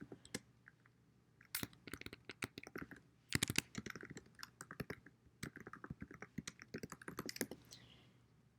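Quiet, close typing on a computer keyboard as a short line of survey intro text is entered, irregular clusters of light key clicks with brief pauses and no talk.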